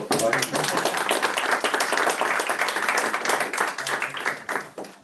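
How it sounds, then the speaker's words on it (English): A lecture audience at a higher-education teaching talk applauds, a dense, steady wash of clapping filling the space and slowly thinning toward the end. "Round of applause for"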